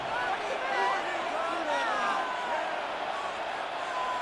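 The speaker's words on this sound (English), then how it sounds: "This crowd turning up the decibel level." Stadium crowd in the Madden 26 football game between the Broncos and Bengals roars steadily, a dense, loud wall of cheering and babble that holds for the whole stretch without breaks.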